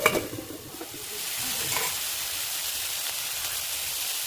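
Onions and tomato sizzling in a hot pan for a soya dish, a steady hissing fry after a few clanks and stirring scrapes at the start.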